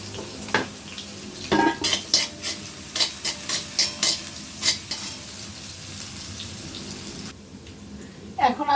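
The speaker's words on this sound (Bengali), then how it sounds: "কড়াই গরম হয়ে গেছে, আমি তেল দিয়ে দিয়েছি। এখন আমি পেঁয়াজ দিব" Sliced onion hitting hot oil in a wok, then stirred with a spatula: a run of sharp scraping, clattering strokes over a steady background sizzle, close and fairly loud, ending in quieter frying.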